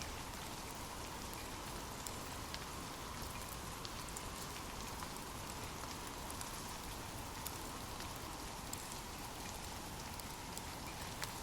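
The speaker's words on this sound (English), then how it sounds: "drift off to sleep with rain" Steady rain falls continuously, a dense, even hiss of drops with scattered faint taps on surfaces and no pauses, voices or other sounds across the whole stretch.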